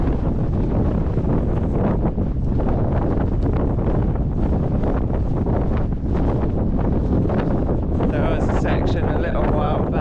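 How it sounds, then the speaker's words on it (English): Strong, rough wind buffets the microphone continuously on a nighttime coastal walk from Wadebridge to Newquay, a loud, dense roar with gusting rustle and no pauses. "The wind is pretty rough though"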